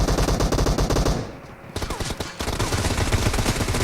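Automatic weapons fire in rapid bursts in PUBG Mobile, a dense, loud rattle of shots that breaks off briefly and then resumes with more clustered gunfire.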